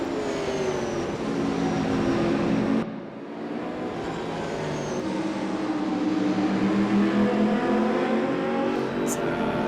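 Sim racing cars at Brno, including a Camaro, hum with steady engine drones and shifting pitch, fairly loud and continuous, with a brief dip midway and commentary voices over the top.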